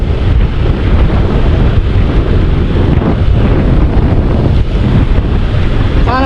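Strong wind roars across the microphone during a flood along the highway at Patimbao near a river, a loud, steady rush of gusty noise that never lets up, with water-like surf tones mixed underneath.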